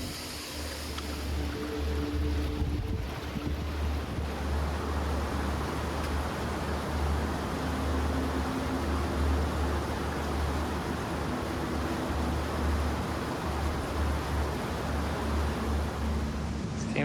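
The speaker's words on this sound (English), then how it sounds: "Now we're on top of the waterfall." Water rushes steadily at the top of a waterfall along Big Pine Creek's South Fork in the mountains, a broad continuous roar heard close by without pause.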